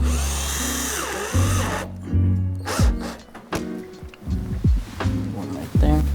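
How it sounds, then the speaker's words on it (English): A cordless power drill with fillet tips drives screws into a side skirt on a Chevrolet Corvette, giving several short whirring bursts with pauses between them, close and loud, with occasional clanks of handling. "You're gonna go ahead and use the drill for this part with the fillet tips."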